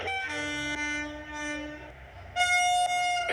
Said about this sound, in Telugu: పక్కన ఇంకో ట్రైన్ వెళ్తుంది.